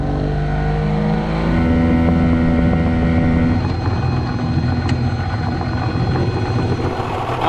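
Yamaha outboard engine on a boat running steady and loud at cruising speed around 4,200 RPM, a continuous droning hum that rises slightly partway through, with no talk.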